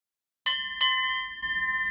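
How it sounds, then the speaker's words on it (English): The ship's bell of the sailing vessel Suva is struck twice in quick succession, loud and close, its bright metallic tone ringing on and slowly fading. "Thanks to Little Bear, we have a beautiful ship's bell."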